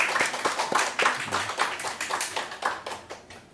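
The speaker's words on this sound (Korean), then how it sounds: "멀리서 왔으니까 우리 큰 박수로 환영하겠습니다." Audience applause greeting a guest who has arrived from far away at a church gathering: a few seconds of steady, fairly close hand clapping from a small crowd, with no talking over it.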